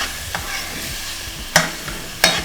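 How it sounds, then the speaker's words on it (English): Aloo saag with pepper stirred in a pot, a soft sizzle under a few sharp spoon knocks against the pot, two of them loud and close, without speech. "I'm just gonna stir this right through"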